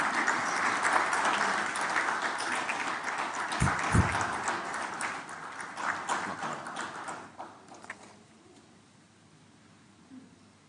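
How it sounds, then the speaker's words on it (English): Audience applause welcoming a keynote speaker at a formal conference, a broad sustained clapping from a large crowd that stays loud for several seconds, then thins and fades out near the end. "I appreciate that round of applause"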